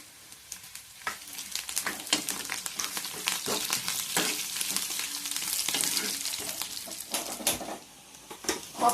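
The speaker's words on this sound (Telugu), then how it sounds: "ఎండుమిర్చి వేస్తున్నాను." Dried red chilies crackle and sizzle in hot oil with onion for a tempering, a steady close frying hiss with brief sharp pops and occasional stirring clinks.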